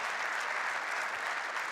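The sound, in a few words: crowd applauding at table tennis final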